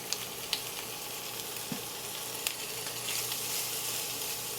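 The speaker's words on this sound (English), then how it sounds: "So you hear that sizzle as soon as it hits the pan." Pancetta sizzles steadily in hot oil in a pan, a continuous close frying crackle with a few sharper pops, cooked as the start of a Jamaican ackee dish.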